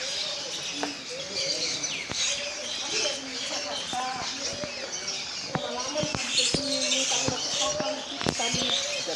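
Birds call throughout a resort aviary in Ciawi, Bogor, with chirps, coos and short calls overlapping at varied distances amid soft background chatter and voices.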